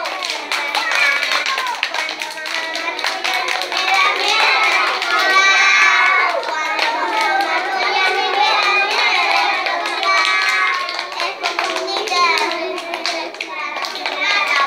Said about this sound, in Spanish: Ayuden con las palmas.